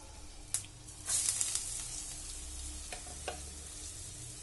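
Chopped mango ginger sautéing in hot oil, giving a faint, quiet sizzle with a brief louder hiss near the start and a few soft stirring scrapes.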